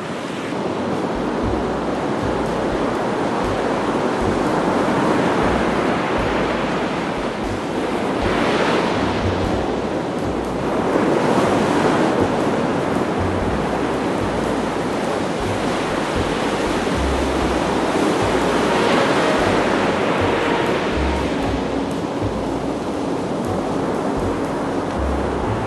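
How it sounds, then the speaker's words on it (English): Ocean surf on a grey Carolina beach roars steadily, with waves breaking in slow swells and heavy wind buffeting the microphone throughout. No voices are heard. "coming at you from a dreary Carolina beach this morning"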